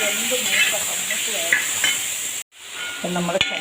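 Jackfruit sautéing in ghee for payasam, a continuous frying sizzle with stirring, briefly cut by a moment of silence before it resumes.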